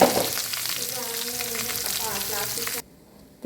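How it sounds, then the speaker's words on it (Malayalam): Mustard seeds and garlic fry in hot oil for a bean stir-fry, making a continuous close sizzle with crackling. The sizzle runs under a faint voice and stops abruptly near the end. "അതിനകത്തേക്ക് തന്നെ കടുകൊക്കെ വറുത്തിട്ട് വെളുത്തുള്ളിയൊക്കെ ഇട്ട്"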